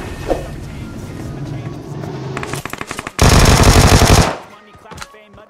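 Automatic gunfire in the battle royale video game BGMI, a rapid burst of closely spaced shots followed by a loud, dense sustained stretch of firing that cuts off abruptly, over background game noise.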